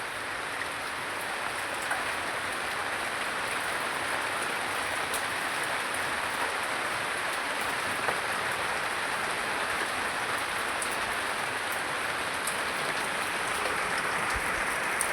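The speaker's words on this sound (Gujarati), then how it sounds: "જે આમ વરસાદ આવે છે તમને દેખાડું ને છે." Steady rain pours down near a water tank in rural Gujarat, a dense continuous hiss with scattered drops tapping surfaces, no voices, holding even and fairly loud for the whole stretch.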